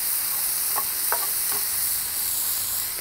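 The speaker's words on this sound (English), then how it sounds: "Just going to let this cook up in this cast iron skillet." Nacho filling cooks in a cast iron skillet with a steady, hissing sizzle, broken by a few soft stirring scrapes; close and even throughout, with no talking.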